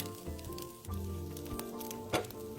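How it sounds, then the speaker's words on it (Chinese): Chopped, soaked dried shrimp frying in a little oil over low heat in a wok gives a soft, close sizzle with light pattering crackles and a brief louder pop near the end. "锅里倒点油，再将剁碎后的虾米倒入"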